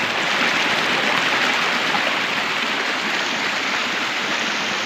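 Cold river water rushes and flows steadily, a dense, continuous broadband wash of stream noise close by, unbroken for the whole stretch with no voices.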